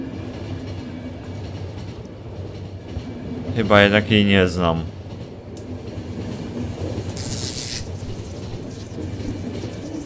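A train runs steadily in The Final Station video game, a continuous low rumble and rail noise throughout, with someone talking briefly over it in the middle.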